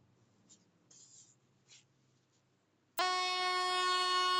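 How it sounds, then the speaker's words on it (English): Train horn blasting loud and sustained from a passing train, cutting in abruptly after a few faint scratchy sounds and quiet background. "Okay, so a train was coming here."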